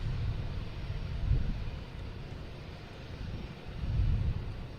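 United Airlines Boeing 737-900 jet roaring steadily during its takeoff run at Boston Logan Airport, a broad low rumble of moderate distance with swells in loudness, no voices.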